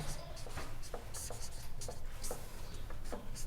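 A pen writes out a geometry proof on paper by hand, giving soft scratching strokes and short taps in an irregular rhythm, close and fairly faint, with no talking over it.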